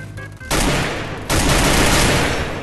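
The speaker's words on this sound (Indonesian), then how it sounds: "Jadi kalau untuk senjata AR itu tembaknya dari pertengahan badan." Sustained assault rifle fire from the video game Free Fire, a loud continuous burst starting after a brief pause, then a second heavier burst of automatic shots that runs on without talk.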